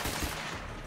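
A burst of shotgun fire in the video game Borderlands 3: a very short, loud blast with no talk over it.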